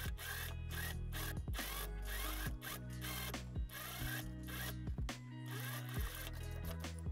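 Sewing machine stitching a collar onto a Chanel-style jacket, heard as quiet bursts of rapid mechanical clatter, stopping and starting in short runs with brief pauses between.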